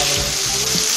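Chopped onion dropped into hot oil with cumin and bay leaf, crackling in a steady, loud, close sizzle with no voices.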